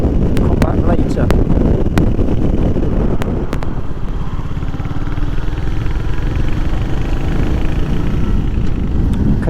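Heavy, steady wind buffeting the microphone while riding a Royal Enfield Hunter 350 motorcycle along a dual carriageway, a loud continuous low roar with engine drone beneath and a few sharp clicks early on.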